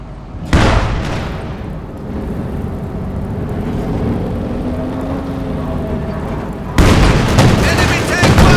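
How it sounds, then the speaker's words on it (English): Heavy tank cannon fire and explosions in a Company of Heroes 2 battle: loud booming blasts at the start and near the end over a sustained rumbling din of combat. "Enemy tank firing on us! Taking fire!"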